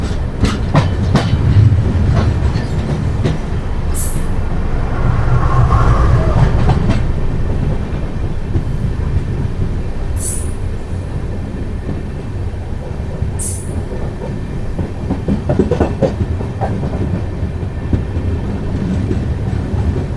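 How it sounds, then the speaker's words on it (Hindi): LHB-coach Kotdwar Express rolling along the rails, a loud, steady rumble with continuous clickety-clack from the wheels and a few sharp metallic squeals and clanks, heard from on board. "ऑन टाइम चल रही है हमारी ट्रेन, 1 मिनट का भी डिले नहीं है"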